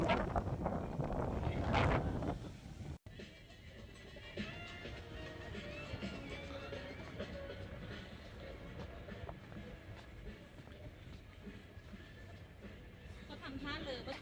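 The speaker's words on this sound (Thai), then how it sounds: "ลมแรง จัง เลย" Strong wind sweeps across a rooftop viewpoint in Shibuya, Tokyo, buffeting the microphone hard for the first few seconds, then easing into a steady, rushing outdoor roar that lasts to the end.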